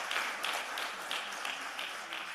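A conference audience at an aviation forum gives a round of applause, moderately faint and fairly even, with clapping swelling in soft rhythmic waves.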